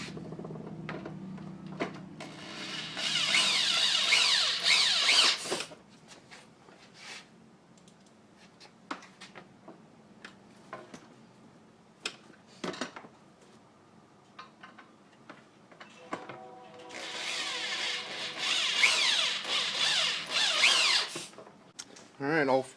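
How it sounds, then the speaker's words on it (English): A power drill whirs in two long bursts, its pitch rising as it drives screws into an Intex Seahawk 2 inflatable boat, with light clicks and handling noises in the quiet gap between. "I got the drill out here too, so I'm gonna go ahead and drill these guys into place"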